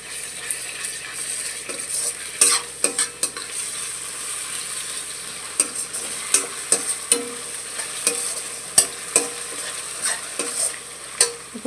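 Ginger paste and onions fry in a pan, a continuous hiss of sizzling broken by repeated sharp scrapes and clacks as a spoon stirs them.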